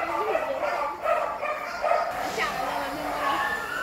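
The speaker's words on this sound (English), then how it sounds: "What is those barking so much?" A dog barks and yips repeatedly in a shelter kennel area during a kitten adoption visit, the sharp calls overlapping steady nearby talk.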